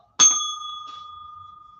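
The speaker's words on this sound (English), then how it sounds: "hit the bell" A single bell struck once at a live music trivia event, a bright metallic ding that rings out cleanly and decays slowly over nearly two seconds.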